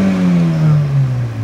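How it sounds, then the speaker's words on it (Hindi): A car engine revs hard as the accelerator is pressed, a close, loud rising whine that then sinks back down over a moment. "जोर का रेस दब गया।"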